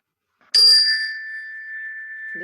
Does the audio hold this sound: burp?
no